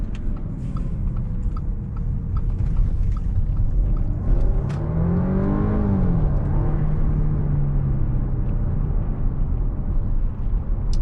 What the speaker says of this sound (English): This engine is great.